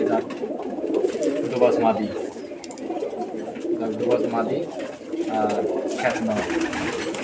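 Pigeons offered for sale coo in soft, repeated throaty bursts close by, mostly under ongoing conversation in Bengali.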